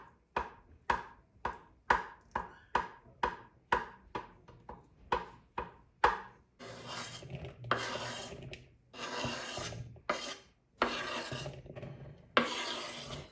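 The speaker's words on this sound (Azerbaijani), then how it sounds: "Yumurtanı doğrayıb tökdükdən sonra bir ədəd xiyarı da doğrayıb tökürəm" A knife chops boiled egg and then cucumber on a board for a crab salad: rapid, regular close cuts at first, then rougher scraping and gathering sounds.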